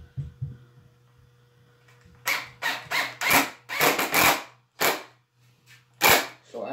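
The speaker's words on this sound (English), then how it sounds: "I'm gonna use each drill to start each hole" Short bursts of an impact driver whining up and stopping, several quick pulses in a row over a low steady hum, close and loud, while starting a hole.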